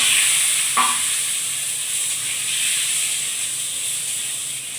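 Cut potatoes hiss and sizzle in hot oil in a pan, a steady bright frying sound with one brief clink of a utensil near the start. No one speaks.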